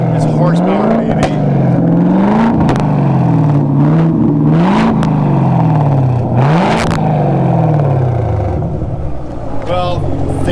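A Chevrolet Camaro ZL1 engine revs loudly up close, its pitch climbing and falling in repeated rev cycles over a deep rumble, with sharp clicks and bursts between revs.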